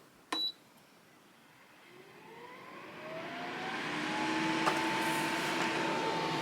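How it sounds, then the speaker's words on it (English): A WeCreat fume extractor for a portable laser, starting on its low setting: after a brief click, a quiet airy whir builds gradually into a steady fan hum with a faint rising tone. "Here is the WeCreat Fume Extractor on its low setting."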